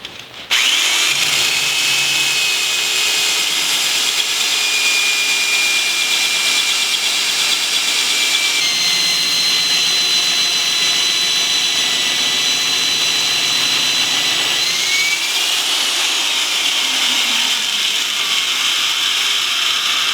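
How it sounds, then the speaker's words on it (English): Hole saw on a power drill cuts a notch in metal tubing, giving a loud, sustained, close whine with shrill grinding overtones and slight pitch shifts that runs nearly the whole twenty seconds. "you wouldn't want to take and cut right into the middle of a tube with the hole saw"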